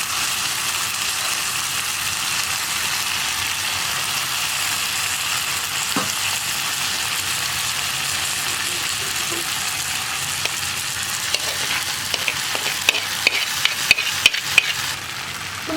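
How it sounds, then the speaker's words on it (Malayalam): Cooked long beans and jackfruit seeds stir-fried in a pan, a continuous close sizzle with spoon scrapes and clatter growing more frequent toward the end, no talking. "ഇനി നന്നായിട്ടൊന്ന് ഇളക്കി മിക്സ് ചെയ്തെടുക്കാം"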